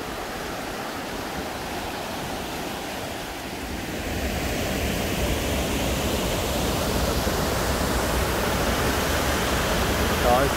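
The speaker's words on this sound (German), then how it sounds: "Bloß, dass hier der Bach kanalisiert worden ist." A channelled brook flows steadily in a continuous broad rushing sound that grows louder partway through as it is approached, with no voice heard.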